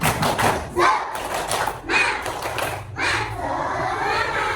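A classroom of children claps a rhythmic spirit clap together in bursts, hands thudding in unison with short gaps between groups, shouting voices mixed in, fairly close and lively.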